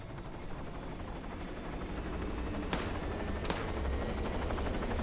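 Steady low rotor drone of a video game helicopter fills the clip, with a couple of sharp bursts like gunfire cutting through near the end.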